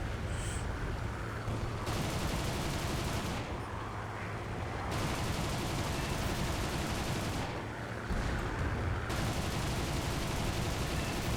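Aircraft guns in a flight combat video game fire long sustained bursts at a B-25 bomber, the dense rattling fire broken by brief pauses, loud and close with no talking.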